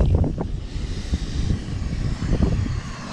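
Gusty wind buffets the microphone on a cold morning by the Moisie River in Quebec, a low rumbling roar with uneven rushes, steady and close throughout.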